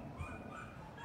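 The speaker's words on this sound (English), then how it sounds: "She's just a nice dog." A rescue dog makes soft, continuous whimpering and low vocal sounds, close and quiet, with no talking.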